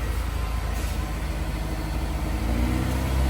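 A Honda S2000 engine held at a light rev of about 3,000 RPM, a steady mid-pitched hum with a slight rise toward the end, close by and with no talk.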